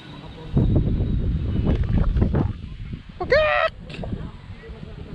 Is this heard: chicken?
yes